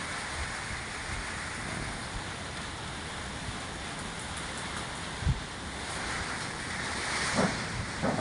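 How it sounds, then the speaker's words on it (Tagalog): Strong gusty wind during a typhoon in Malolos, Bulacan, a broad continuous roar with surging gusts and a few buffeting thumps against the microphone, no talk. "Bugso-bugso po ang hangin mga kabantay."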